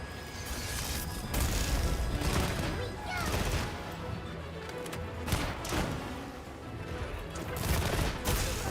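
A heavy bowgun fires in a video game, a dense run of loud, booming blasts that keeps going almost the whole time, with a voice talking over the gunfire.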